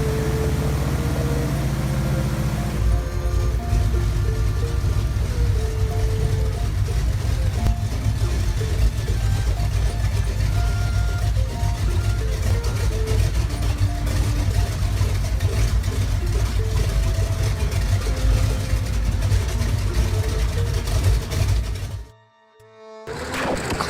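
Napier Deltic 36-piston triangular engine running on a test stand, a loud, steady mechanical drone with a dense rumbling throb that holds for over twenty seconds before cutting out abruptly near the end.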